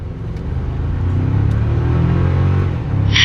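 A 2025 GMC Canyon pickup with a 2.7L engine and 8-speed transmission accelerating hard, a loud steady engine roar heard from inside the cab, rising in pitch with a brief drop near the end as it shifts.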